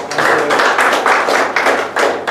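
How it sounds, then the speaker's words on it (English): A meeting audience applauds for someone at a Toastmasters session, a loud, steady wash of clapping hands lasting the whole stretch with slight swells and dips. "Give him a big round of applause"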